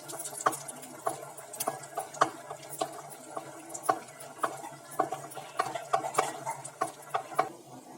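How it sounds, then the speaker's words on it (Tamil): Cashews and raisins roast in hot ghee in a kadai, with a quiet sizzle broken by frequent small pops and crackles and occasional light stirring taps. "நம்ம முந்திரி திராட்சையை வறுத்துக்கலாம்"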